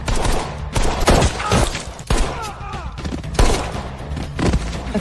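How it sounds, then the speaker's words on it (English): Gunfire in a dramatic action scene, several sharp shots and thuds in a dense, loud burst mixed with music and effects. "gunfire erupted behind me."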